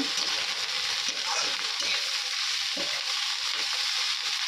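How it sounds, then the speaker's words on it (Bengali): Rice frying in a pot gives a steady, close hiss of sizzling that runs unbroken throughout, with faint stirring scrapes and no voices. "এই ভাত ভাজা করব আর রান্না করব"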